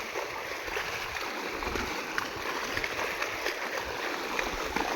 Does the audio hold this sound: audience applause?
no